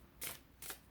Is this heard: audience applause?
no